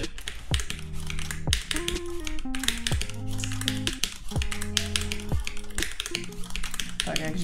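Fast, crisp clacking of a 60% mechanical computer keyboard, keystrokes tapping steadily in close-up over a continuous background of tonal game sounds.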